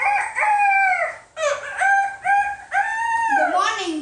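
Drawn-out crowing calls from a farm rooster, several long loud harmonic cries following one another closely, heard alone and near.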